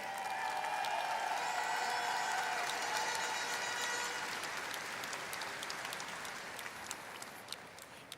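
An audience at the Miss Universe 2023 preliminary competition in El Salvador applauds steadily, a dense wash of clapping and crowd noise that gradually thins toward the end.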